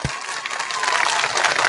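A crowd applauding at an outdoor political rally in Canning, a dense wash of clapping that swells slightly toward the end, after a short thump at the start, with no clear talk over it.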